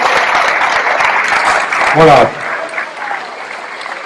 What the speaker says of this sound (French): on peut les applaudir en même temps parce qu'ils sont assez nombreux